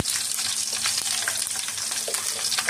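Green chillies fry in hot oil with a dense, bright crackling sizzle, steady and close throughout a short stretch, with faint stirring touches.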